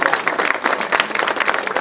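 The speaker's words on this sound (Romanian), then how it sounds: "Aplauze" Audience applause at a Dynamite Fighting Show press conference in Targu Jiu, many hands clapping in a dense, steady patter at moderate loudness, with a faint murmur of crowd noise beneath.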